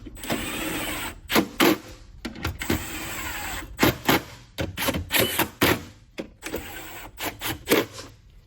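A power tool drives fasteners into the battery connector of a Tesla Model 3 during a battery swap, with whirring runs and sharp bursts separated by short pauses, close and fairly loud.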